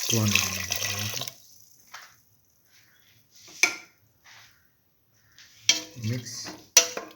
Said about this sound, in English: Now put 200 ml of water.